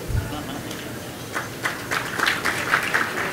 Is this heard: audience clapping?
yes